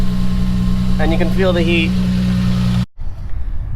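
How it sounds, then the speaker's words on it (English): A Lexus IS300 fitted with a GReddy catback exhaust idles up close with a steady low drone, its exhaust leak under the car. Someone talks over it before the sound cuts off abruptly. "We do have an exhaust leak back here. You can hear it"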